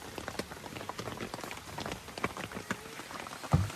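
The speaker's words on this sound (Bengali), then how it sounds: "বৃষ্টি আর বৃষ্টি।" Heavy rain falls during a downpour in Bangladesh, a soft, dense pattering and crackle of drops on surfaces, fairly faint and continuous, with no voices.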